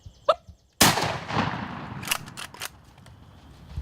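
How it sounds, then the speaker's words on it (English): A single loud gunshot cracks out during a turkey hunt, echoing briefly outdoors. A couple of small mechanical clicks come before it. "Go ahead, shoot it."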